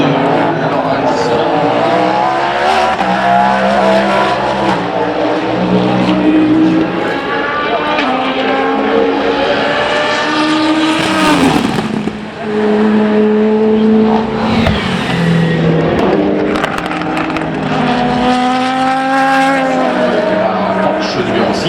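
Porsche prototype race cars scream past during the Le Mans 24 Hours test day, with repeated loud engine passes sweeping up and down in pitch as the cars upshift and downshift, partly under a talking voice.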